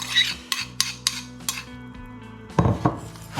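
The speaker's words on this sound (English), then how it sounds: "And mix all that together until we get that wet sand appearance." Biscuit crumbs being mixed with melted butter in a bowl for a Biscoff cheesecake base, heard as a run of sharp spoon-on-bowl clinks and scrapes in a steady rhythm, close and fairly loud, with no talking.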